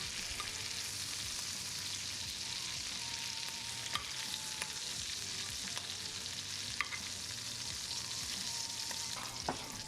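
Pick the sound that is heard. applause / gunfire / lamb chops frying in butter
lamb chops frying in butter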